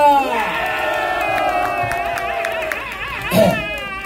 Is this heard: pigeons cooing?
no